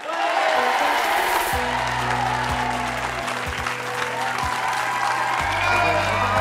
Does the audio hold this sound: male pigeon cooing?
no